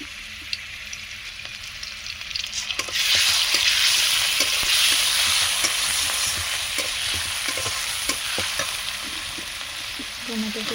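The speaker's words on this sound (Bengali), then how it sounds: "তেল দিয়ে দিচ্ছি কড়াতে, পাঁচ ফোড়ন দিয়ে দেবো, পেঁয়াজ বাটা" Panch phoron and onion paste hit hot oil in a wok and burst into a loud, sustained sizzle after a quieter start, with scattered crackles and spoon scrapes through the frying.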